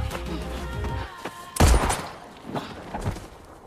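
Gunfire bursts over a dense action-scene mix, with a heavy loud blast near the middle and further sharp cracks after it.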